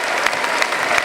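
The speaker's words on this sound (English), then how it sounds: "Give us a big applause for our driver backstage, for Mr. Matthew Moore" Audience applause at the close of a live Guild Wars 2 stage demo at gamescom 2010, a dense loud wash of clapping from a large crowd that holds steady throughout.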